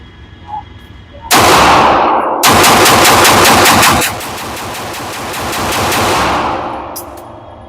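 An airsoft hybrid pistol, the MPA DS9 Hybrid IDPA V2, fires loud, fast full-auto bursts at close range, with two rapid strings followed by a fading rumble.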